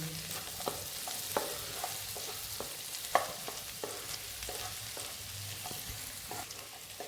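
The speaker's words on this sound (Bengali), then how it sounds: "রসুনের ভাজা গন্ধটা আসবে, একটু ভেজে নেব" Garlic fries in a pan, heard as a soft, fairly quiet sizzle with scattered sharp taps and scrapes from stirring.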